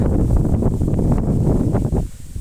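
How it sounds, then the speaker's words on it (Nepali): Strong wind roars and buffets the microphone on an open hillside path above houses, a loud continuous low rumble with gusting surges. "अरे लु हावाले त उडाउँछ क्या"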